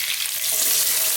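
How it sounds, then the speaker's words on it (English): Fresh curry leaves hit hot oil for a beef potato curry, giving a loud, dense crackling sizzle that swells after a brief start and holds steady with no voices. "At this point we're going to add some fresh curry leaves, which are usually quite noisy"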